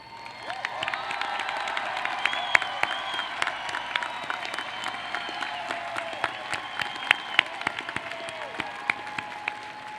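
Applause rises from a large graduation ceremony crowd standing for honors graduates, sustained clapping with scattered cheers and a few children's shouts, heard from a distance in a big reverberant venue.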